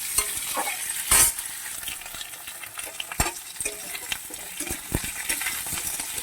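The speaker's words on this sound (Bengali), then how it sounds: "এটাকে আমি এক মিনিট মতন ভেজে নেব" Bottle gourd, pointed gourd and beans sizzle steadily in a hot pan while a utensil scrapes and stirs in irregular strokes, with a sharp clatter near the start.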